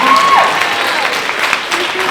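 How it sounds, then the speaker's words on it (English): Students' families at a school music ensemble concert applaud loudly and steadily, with a brief tonal note at the start and some crowd noise mixed into the clapping. "round of applause again for them learning that so quickly"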